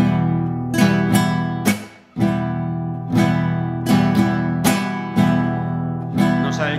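Guitar strummed in a zamba rasguido pattern, every stroke at the same even intensity with no accented chasquido, a steady series of bright full-chord strums, close and alone.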